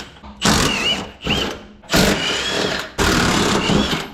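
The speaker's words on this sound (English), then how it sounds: "We do have a couple more bolts on each side we gotta unscrew before we get this radiator out." A power tool unscrews radiator bolts on a military truck in four loud, close bursts, each whirring for about a second, with short pauses between them.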